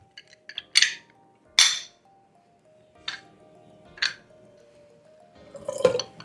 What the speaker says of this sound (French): Donc là, on va mettre le jus de 1 demi-citron.